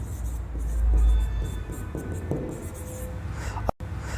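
Chalk or marker scratching across a board during a chemistry lesson on acids and bases, a steady close run of writing strokes with a brief bump near the end, no speech over it.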